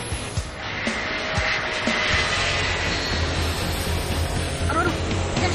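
A steady airplane engine drone fills the scene without pause, with people talking over it.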